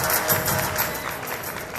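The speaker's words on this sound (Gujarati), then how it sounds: "વધાવો તાળીઓથી વધાવો." Audience clapping at a community get-together (snehmilan) of the Vasavad samaj, a steady wash of applause from a seated crowd throughout, fairly full and even without clear peaks.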